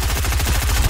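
Fast burst of automatic gunfire in the video game Fortnite, a quick regular string of about a dozen shots in one second, loud and close.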